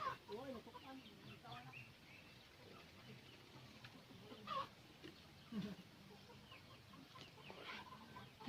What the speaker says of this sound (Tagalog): Gonna check my chickens.